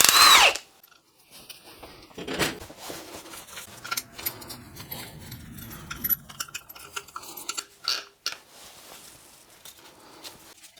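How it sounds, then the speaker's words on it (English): An impact wrench with a 16mm socket works the timing belt tensioner nut on a Renault Trafic F9Q engine: a loud burst at the start, then quieter intermittent rattling and clanking tool handling, close by. "I'm going to use an impact with a 16mm socket."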